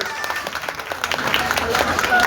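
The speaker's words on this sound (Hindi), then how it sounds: "तालियों से स्वागत किया जाए भाई" Crowd clapping at an open-air political street meeting in a city ward, a dense steady patter of applause from a gathering, with voices mixed in throughout.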